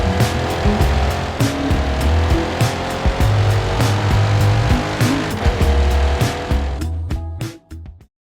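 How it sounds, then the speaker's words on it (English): A 2024 Corvette E-Ray races in Forza Horizon 5, its engine droning and shifting pitch steadily with repeated tire squeals and skids, loud and continuous, before cutting off abruptly near the end. "today we're going to be playing Forza Horizon 5, or more specifically, racing and driving the Corvette E-Ray"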